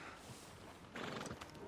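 A horse in Red Dead Redemption 2 on a ranch, with hooves clopping and a whinny over faint steady background noise, the animal sounds growing louder in the second half.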